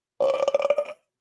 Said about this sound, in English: Nice big belch.